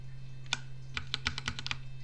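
Arrow keys on a computer keyboard tapped repeatedly while positioning an image for an xTool M1 laser: about nine quick, close clicks in an irregular rhythm over a steady low hum.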